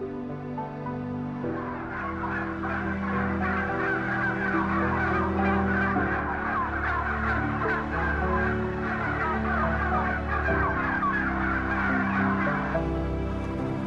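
Tens of thousands of poultry birds crowded inside a single farm building make a dense, loud, unbroken clamour of gobbling and squawking calls with no pauses.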